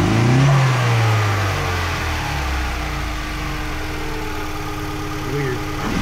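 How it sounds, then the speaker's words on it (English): A 2005 Mazda MX5 Mazdaspeed engine tuned on Megasquirt idles steadily up close with an odd, off tone, a brief low rev swell at the start and a continuous mechanical drone throughout. "It's not stalling out anymore, but the motor just has a strange tone to me."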